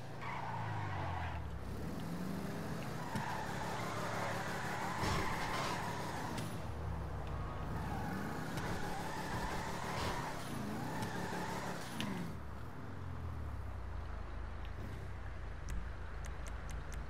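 Albany Lurcher muscle car in GTA V revving and drifting, engine roaring continuously with repeated tire squeals as it slides through turns, loud and close throughout with no talk.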